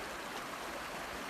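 Krebbs Creek, a mountain stream on a high trail, rushes in a steady broadband hiss of flowing water, close and even for a brief moment with no voices.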